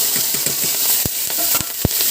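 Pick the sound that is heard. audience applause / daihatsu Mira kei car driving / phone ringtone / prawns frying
prawns frying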